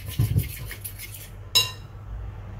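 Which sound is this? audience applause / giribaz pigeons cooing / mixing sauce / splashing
mixing sauce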